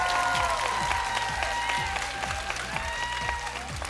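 Studio audience applauds on the X-Factor TV talent show superfinal, a broad wash of clapping and crowd noise under loud ringing music with a pulsing beat.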